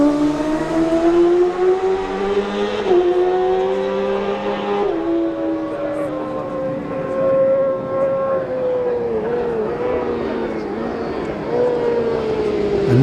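Honda and Yamaha racing motorcycles in a Manx Grand Prix newcomers race scream past at Ballacraine, engines whining high then dropping in pitch as they go by, loud and close, one bike following another.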